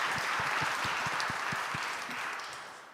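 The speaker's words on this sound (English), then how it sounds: "Another round of applause." Applause from a symposium audience runs steadily with distinct individual claps, then tapers off toward the end.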